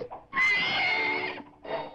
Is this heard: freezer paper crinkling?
no